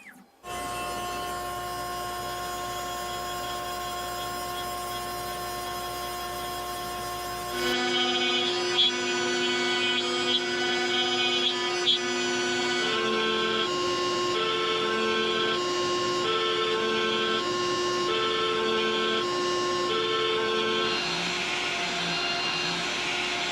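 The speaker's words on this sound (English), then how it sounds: "Once I had the body blank secured on the machine, I set the 0 off of the top of the piece, and I could start running these G-code files." A CNC machine cuts a bass guitar body blank: a steady mechanical whine with a constant drone, shifting in pitch and pulsing in rhythmic steps as the cutter changes passes, loud and continuous with no talk.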